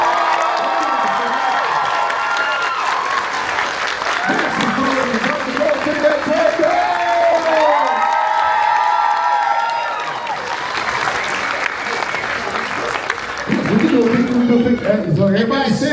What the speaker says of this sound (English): So y'all make some noise and give them a round of applause.